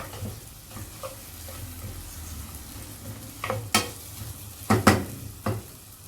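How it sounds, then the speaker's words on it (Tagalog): Onion sautéing in a pan as the base for a sweet and sour fish sauce, a soft steady sizzle with scraping stirs and a few louder clatters of a utensil against the pan toward the end. "So just saute that and wait for it to become translucent."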